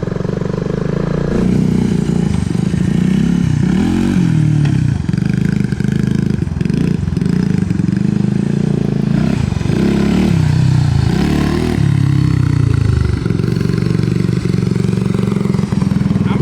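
A 1986 Honda ATC250 Big Red three-wheeler with a five-speed gearbox runs steadily as it warms up, its engine chugging and rumbling loud and close with occasional blips and some mechanical clatter, no talking over it.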